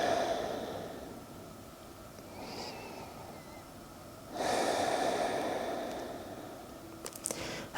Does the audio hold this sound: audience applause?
no